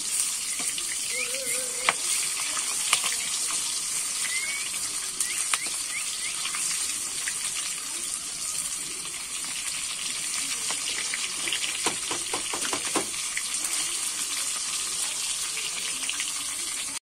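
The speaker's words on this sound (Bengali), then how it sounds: "আমি উল্টে পাল্টে লাল লাল করে ভেজে নেব।" Salt-and-turmeric prawns fry in a kadai, a continuous bright sizzle with crackling spits, broken by scraping clicks and knocks as the pieces are turned over in the oil.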